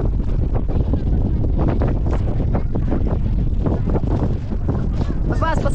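Strong wind buffets a camera microphone outdoors during a fish-trap harvest and camping trip, a loud, constant rumbling blast that fills the whole stretch.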